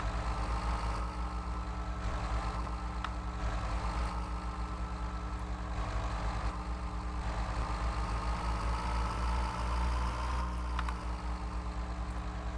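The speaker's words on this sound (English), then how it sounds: "So, because a Cummins sounds great." A Cummins diesel bus engine idles steadily in the Rigs of Rods game, a continuous low rumble with an even, droning tone held throughout, with no talking over it.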